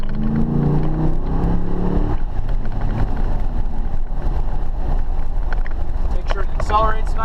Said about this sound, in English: Accelerates nicely, it doesn't stumble, doesn't try to stall out.